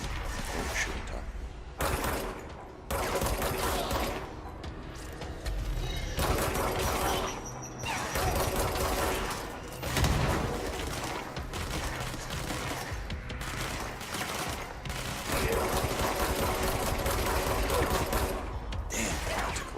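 Gunfire in the video game Control, dense, near-continuous bursts of shooting repeating throughout, loud and close, with short gaps between volleys.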